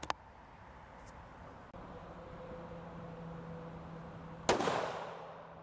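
A CVA Cascade XT rifle firing Hornady American Whitetail ammunition at an outdoor range gives one sharp, loud report near the end, followed by a fading echo. A faint click comes earlier, and a low steady hum runs underneath.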